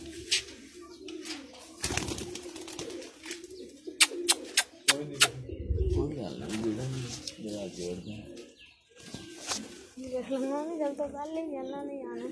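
Baby pigeons cooing and calling in repeated soft bursts, mixed with wing flutters and sharp clicks, close by, while people talk over them.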